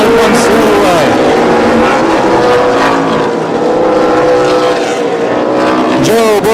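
Race cars at the Columbus oval track roar past in a continuous loud engine drone, with pitch sweeps as cars pass, while an announcer talks over the racing.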